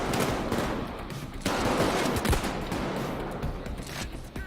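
Revolver gunfire in the video game Payday 2, a loud close barrage of sharp shots cracking out in rapid irregular bursts over a dense, noisy firefight.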